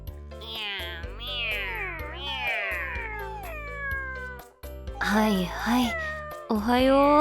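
Three cats meowing insistently at half past five in the morning, wanting breakfast, with repeated close, loud meows and a voice talking to them in between.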